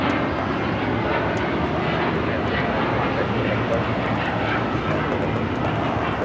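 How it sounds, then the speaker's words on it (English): A Japan Airlines Boeing 787-9 Dreamliner takes off at LAX, its engines a loud, continuous broadband roar that holds steady throughout with no talking over it. "This is Japan Airlines Flight 61 taking off to Tokyo Narita on the 787-9 Dreamliner."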